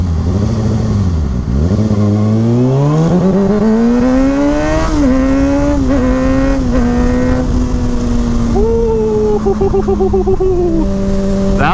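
A car launches hard and accelerates through its gears, the engine note climbing loud and close in repeated rising sweeps, with each shift marked by a drop before it winds up again.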